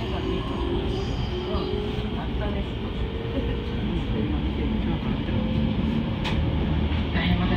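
A Rapid Rabbit rapid train on the Utsunomiya Line departs Utsunomiya Station and rumbles steadily on the tracks, with a constant low roar and occasional rattles from inside the carriage.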